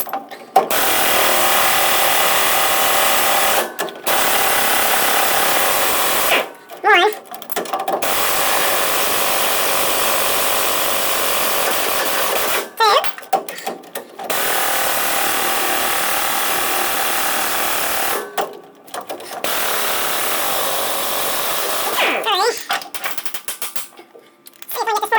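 An impact wrench loosens leaf spring bolts on a 1951 Ford F-1 pickup, hammering in long, loud rattling bursts broken by several brief pauses between runs.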